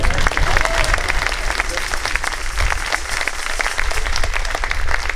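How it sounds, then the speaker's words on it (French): A church congregation gives a long, steady round of dense clapping at the closing Mass of a 2024 pastoral visit. The clapping fills the whole stretch at an even, moderate loudness. "on peut l'applaudir"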